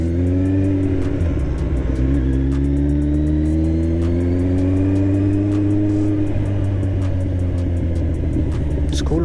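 A Kawasaki Z1000 motorcycle with an SC Project exhaust runs loud and close, its deep engine note rising and holding as it pulls, with rapid ticking and rumble throughout.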